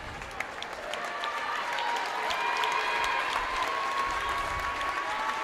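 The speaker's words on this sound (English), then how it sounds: "Nice round of applause from everybody, including the Maranacook fans." Applause from basketball spectators, including the visiting Maranacook fans, at a varsity boys game in a gym, a steady crowd clapping that swells slightly and holds, with some faint tonal ringing in the hall.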